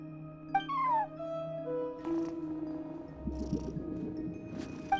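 A front-desk cat in Genshin Impact lets out a short meow, then a low, rough purr-like rumble follows under ongoing game music, with no speech.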